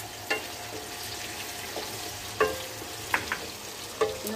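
Onion and ginger fry with cumin in a pan: a soft steady sizzle with a few sharp knocks and scrapes as a spoon stirs, close by and with no voices.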